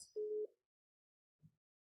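An incoming telephone call sounds during an indoor teaching session: one short, steady electronic tone, followed by a faint blip and silence.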